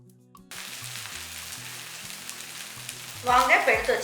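Paneer masala filling sizzling and frying in a pan for masala dosa, a steady soft crackle throughout that swells into louder stirring and sizzling near the end, with no voices.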